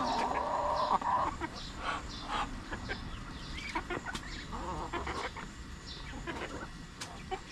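Chickens cluck and murmur in a busy flock, with scattered short calls over a steady background hum.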